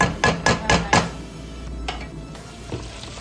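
Onions going into melted butter in a pan for chipotle bacon mac and cheese: four quick thumps as they drop in, then a soft, steady sizzle with a couple of faint knocks.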